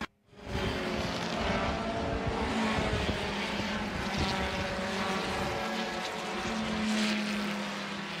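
Race cars lapping the Road America circuit during a Group 2 feature race, a loud continuous engine roar after a brief quiet start, with a buzzing tone that shifts as cars pass and accelerate.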